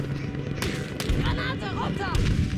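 A Battlefield 5 sniper rifle shot in a multiplayer match, a sharp crack with a couple of other gunshots over game noise and loud talk.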